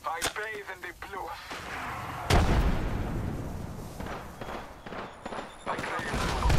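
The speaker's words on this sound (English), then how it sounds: "Listen up, I'm getting shot at." Gunfire and explosions in the battle royale game Apex Legends: a rapid burst of shots, then a heavy blast with rumbling aftermath and scattered further shots, with radio-style voice chatter mixed in.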